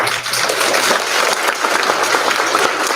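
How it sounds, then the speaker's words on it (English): A school induction ceremony crowd applauding steadily and loudly for a few seconds, dense overlapping claps with no voices standing out. "we should all give these people a round of applause."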